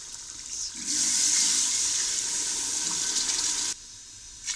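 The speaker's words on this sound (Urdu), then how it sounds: "1 گلاس اور پانی کا ایڈ کیا." Water rushes in a steady loud pour into a pot of beef nihari, beginning abruptly, holding for about three seconds, then cutting off sharply to a quieter background.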